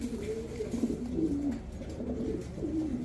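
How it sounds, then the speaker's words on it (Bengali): A caged pair of pigeons, a female and a male, coos steadily in low, rounded calls, close by with a faint background hum. "এটা আপনার এই যে এটা মাদি কবুতর আর এটা নর।"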